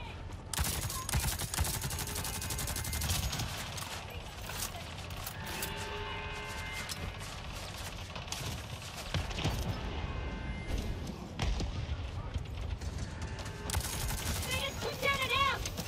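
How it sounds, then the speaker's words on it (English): Enemy gunfire rattles through a session of Avatar: Frontiers of Pandora, with loud bursts of rapid shots and fusillades that come and go across the whole stretch alongside other game sounds. "they shoot me through fucking walls"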